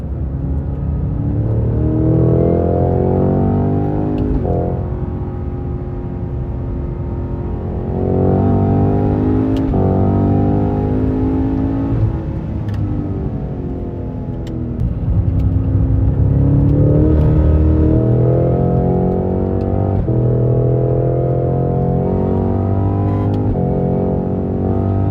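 Cadillac CT4-V and CT5-V Blackwing sedans circling a race track, their engines revving and rising in pitch through gear changes, droning steadily loud throughout with no talking.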